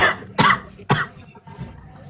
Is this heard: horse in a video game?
no